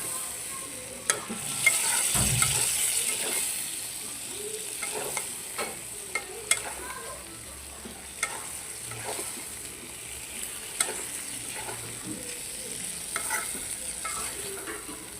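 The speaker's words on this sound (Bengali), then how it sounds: "দুধ দিয়ে এখন এটাকে একটু নাড়াচাড়া করে নামিয়ে ফেলবো।" A spiced dish with milk is stirred in a frying pan, a soft steady sizzle under repeated scraping and clinks of the spoon against the pan, close and fairly quiet.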